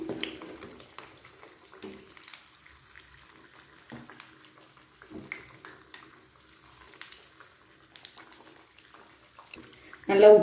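Rice flour and butter sweet dough fries in oil over a medium flame, making a soft, faint, bubbling sizzle with small pops and occasional stirring. A short louder sound comes at the end.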